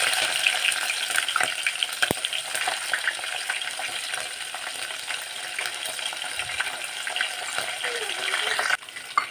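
Chana dal, mustard seeds and green chilies frying in hot oil for avarekalu uppittu, a close, crackling sizzle with sharp pops and stirring scrapes, fairly steady before a sudden knock near the end.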